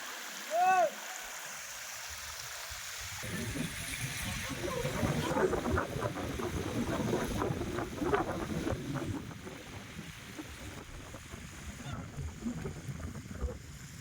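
Water rushes continuously at Pinsal Falls, a steady broadband roar heard from above the falls, with gusts of wind buffeting the microphone.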